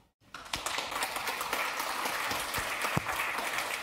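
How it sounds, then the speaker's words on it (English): Audience applause at a TYPO3 developer conference rises after a brief silence and holds as a steady, moderately distant patter of many hands, with a few sharper claps standing out. "Let's give him a round of applause."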